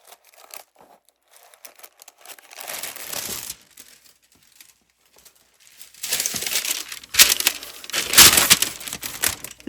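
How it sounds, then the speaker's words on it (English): Sheets of parchment paper from a dollar store are handled and crinkled up close, giving bursts of crisp crackling and rustling that start softly and grow louder and denser in the second half, with brief quiet gaps between handfuls. "So I'm going to bring in some parchment paper here."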